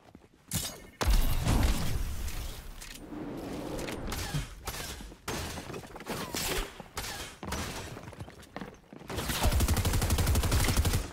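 Video game gunfire in a shooter, rapid bursts of automatic fire and heavy shots broken by brief pauses, loud and close, with a sustained volley at the end.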